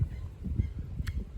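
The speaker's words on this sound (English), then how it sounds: "And the geese, like I said, I've penned them up into their breeding pens so that Ray can't get in there and get their" Geese penned in homestead breeding pens honk in a few nearby calls, with a loud, clear honk standing out over low farmyard background.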